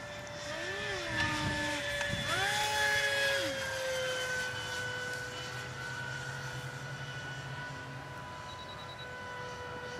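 An F-16 jet aircraft passes with a rising and falling engine whine over a steady tonal hum, loudest early on and then fading, with no talk over it.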